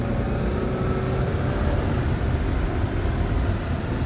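A 1987 Ford Ranger V6 pickup pulls away under acceleration, heard from inside the cab as a dense, steady engine and road roar that fills the whole stretch without voices.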